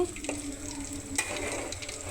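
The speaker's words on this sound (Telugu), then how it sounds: "బాగా అంటే బాగా వేయించుకోవాలి" Fish frying in oil in a pan, heard as a soft, steady sizzle with a brief metallic utensil clink partway through, and no voices.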